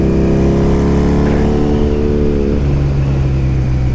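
A 1987 Honda Super Magna 700 motorcycle engine runs steadily up close, a loud, even mechanical drone with a smooth, constant idle-like rhythm and no voices.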